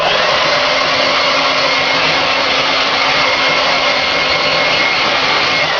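A hair dryer runs at close range while hair is dried, giving a loud, steady, unbroken blowing whir that holds evenly from start to finish.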